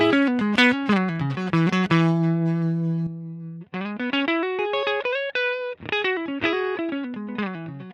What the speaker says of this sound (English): I've turned the cab block off in the Iridium. So you'll hear if I turn this off